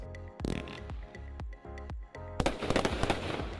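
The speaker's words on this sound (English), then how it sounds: "This multi-shaped firework starts with straight firing peonies with added mines to pulse firing of fish and fanned blue peonies." A multi-shot firework cake fires straight peonies with added mines, then pulsing fish and fanned blue peonies: a run of sharp launch thumps and bursts, followed by a dense crackling, fizzing flurry, moderately distant, with no voices.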